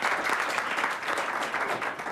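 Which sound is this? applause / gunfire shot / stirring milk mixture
applause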